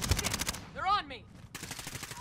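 Gunfire in the battle royale game Call of Duty Warzone: a rapid burst of shots opens, a brief whooshing swept tone follows, then more quick shots resume near and loud.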